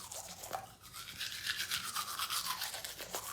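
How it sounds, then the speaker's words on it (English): A toothbrush scrubs teeth in a close, soft, continuous bristly rasp with quick back-and-forth strokes and no talking. "when you brush your teeth, your brush should go in circles"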